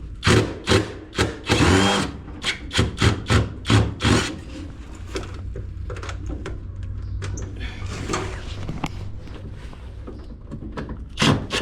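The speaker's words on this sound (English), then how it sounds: "since I got the drill with me, I might as well use the drill" A power drill removes screws from a washer/blower unit being scrapped, whirring in several short bursts, then a longer steady run, close by with some clattering in between.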